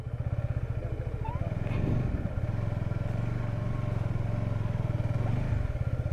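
A motorcycle rides a broken rural dirt road in Bangladesh on a Dhaka to Sylhet bike trip, its engine pulsing in a steady, close, rhythmic putter with a slight rise in revs partway through.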